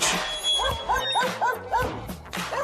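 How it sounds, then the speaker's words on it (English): Dogs bark repeatedly in short yelping bursts over an arena crowd's hubbub, a sound effect played at a college men's wrestling dual meet between Iowa and Iowa State. "these dogs are gonna keep barking if they don't get fed"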